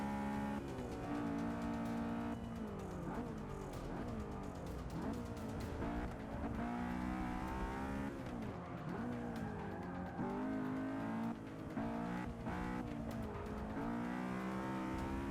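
Honda S2000 race cars in Forza 6 roar loud and continuous, engines revving up and down through gear changes with tire squeals and skids mixed in.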